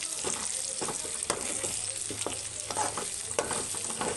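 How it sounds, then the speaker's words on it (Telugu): An egg frying in oil in a pan, with a steady close sizzle and occasional scraping stir sounds over it. "అప్పుడు ఎగ్ అనేది చక్కగా ఫ్రై అయిపోతుంది."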